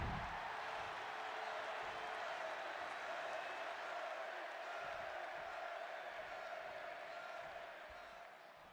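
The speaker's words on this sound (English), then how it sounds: "just listen to this crowd here in Oh, Chicago." A wrestling arena crowd in Chicago in the WWE 2K26 video game keeps up a steady dense roar with scattered cheers and applause, constant and somewhat distant.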